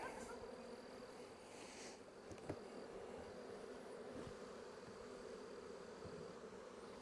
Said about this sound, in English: See, a lot of the bees are landing on it.